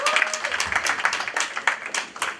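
People at a Bamileke community convention clap for a fundraising donor, a fairly small group's uneven, distinct handclaps with a slightly choppy rhythm, moderately near.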